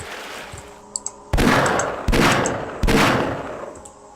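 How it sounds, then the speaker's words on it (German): Enemy gunfire aimed at the player in Half-Life: a couple of small clicks, then three loud, sharp shots spaced evenly under a second apart, each trailing off into a ringing decay. "Das Teil auf mich geschossen."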